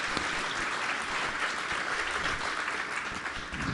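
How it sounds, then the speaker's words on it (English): Steady applause from an audience at a 2016 Superintendent Honors ceremony, dense and sustained throughout, with no talk over it. "please give them a big round of applause"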